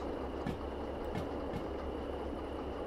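Rolling train in the Derail Valley simulator, a continuous low rumble of wheels on track with a few faint rhythmic clicks, steady and even, no talking.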